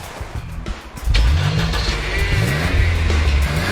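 A car engine cranks briefly, catches and starts, then revs up and settles into a loud, rising and falling roar that fills the rest of the clip.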